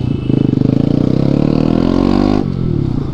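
A Bajaj Pulsar RS 200 motorcycle with a loud aftermarket exhaust idles up close in a deep, fast-pulsing rumble that rises in pitch as it revs, then drops back.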